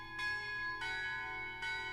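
Bright tuned church bells chime three slow notes in a cathedral setting from the game Shadows Over Loathing, each strike sustaining and blending into the next over a quiet low hum, with no talking.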